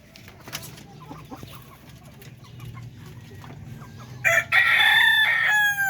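A rooster belonging to a Filipino breeder crows once loudly and close near the end, after a stretch of quiet farmyard ambience with scattered clucks and small knocks.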